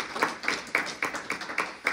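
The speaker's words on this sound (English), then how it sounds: "let's give a round of applause to the library here and the staff here" Rhythmic clapping for library staff at a talk, about eight sharp claps in a steady beat, fairly close and distinct with no voices over them.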